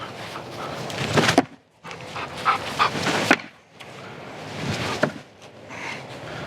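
A dog pants rapidly in close, uneven bursts with soft whimpering whines mixed in, broken by brief pauses, fairly loud and alone without talk.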